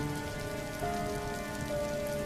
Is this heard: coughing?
no